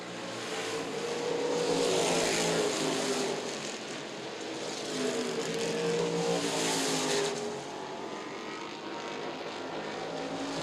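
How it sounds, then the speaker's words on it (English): Race cars on the Winchester Speedway oval during 2013 Winchester 400 weekend preliminary events roar past in two loud swelling passes, engine noise rising and fading over a constant background of other cars circling. "racing with Crabtree for the third spot"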